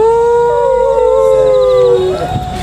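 A dog howls loudly and close by in one long, wavering, siren-like wail that slides slightly in pitch. The sound holds steadily for about two seconds, then breaks off into rougher, fading noise.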